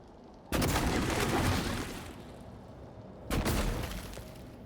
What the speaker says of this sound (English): But I do have a glue gun.